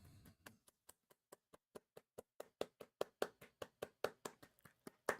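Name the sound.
golf clap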